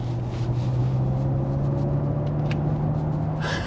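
A steady synthetic engine hum from a 2022 Genesis GV60 electric SUV's engine sound generator, with a low droning tone, constant and smooth, like an idling motor, close and even throughout.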